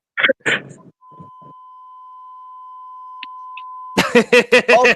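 A steady censor beep tone holds for about three seconds between bursts of radio-show talk, loud and clean against silence.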